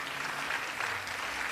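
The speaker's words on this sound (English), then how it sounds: "can we have just a round of applause for the teams?" Applause for the competing teams at a Junior Achievement Africa company-of-the-year event, a steady wash of clapping from the audience that holds evenly throughout with no voices on top.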